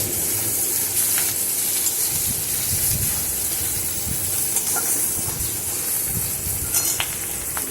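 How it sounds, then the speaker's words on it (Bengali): Boiled dal with salt and turmeric poured into a hot pan of spiced bitter gourd, giving a steady loud sizzle with bubbling and hissing that continues throughout. "এই ডালটাকে আমি এর মধ্যে ঢেলে দিলাম"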